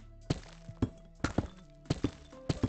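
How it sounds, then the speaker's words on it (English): Deepslate blocks being broken in Minecraft 1.17, a series of sharp, hard stony knocks landing in small clusters of two or three, each a crisp close thunk with brief gaps between. "now when you destroy it, you got a new kind of sound to it"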